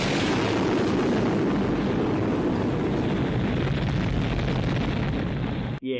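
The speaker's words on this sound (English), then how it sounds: "Yeah, big explosion." A speedboat blows up from a bomb in the 1992 film Hurricane Smith, producing a loud, sustained explosive roar with heavy rumbling. The blast stays dense for several seconds, then cuts off abruptly, with no voices.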